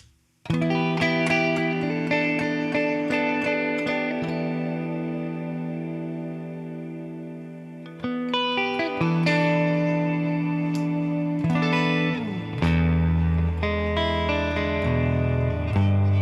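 Electric guitar played through a BOSS GT1000 effects unit with gain raised, ringing distorted chords and notes with reverb and echo, strummed and sustained, then picked phrases, loud and continuous with no talking.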